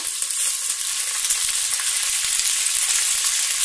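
Coriander and mint leaves fry in hot oil for chicken biryani, giving a loud, continuous bright sizzle close up, with faint stirring and no talking.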